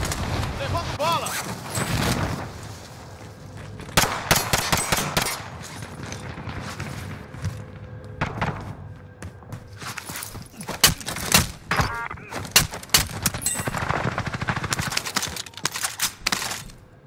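Automatic machine gun fire in the video game Call of Duty: Modern Warfare: repeated sharp bursts and clusters of shots spread through the stretch, over a busy game background with voices talking.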